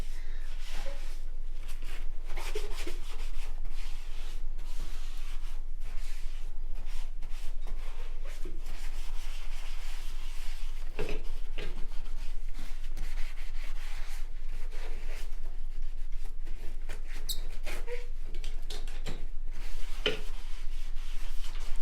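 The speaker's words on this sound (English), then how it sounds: "I'm going to scrub that down with the Scrub Mummy" A Scrub Mummy sponge scrubs a bathroom sink in rapid, steady back-and-forth strokes, a close, continuous rubbing and swishing that runs on alone.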